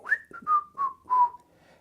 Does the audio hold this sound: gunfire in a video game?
no